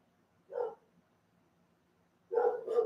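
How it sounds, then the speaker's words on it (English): An indoor dog barks at someone arriving at the door: one short bark, a pause, then two quick barks close by, with otherwise quiet surroundings. "Someone's coming to the door because Fantastic is barking"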